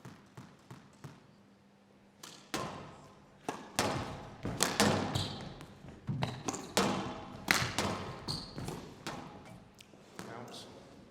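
Squash ball struck hard and repeatedly during a rally at the British Open 2024 professional match, sharp close thuds and bounces in an irregular rhythm, with a commentator talking over the play.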